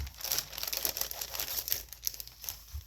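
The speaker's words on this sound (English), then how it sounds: "Take off this masking tape" Masking tape is peeled and crinkled off a bagged journal kit in a few seconds of close, papery crackling and tearing, with no talking.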